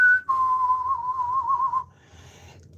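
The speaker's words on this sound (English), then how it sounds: "just start whistling like a cowboy" A person whistles a long, wavering cowboy-style tune, one sustained melodic line lasting about a second and a half, loud and close with no talking.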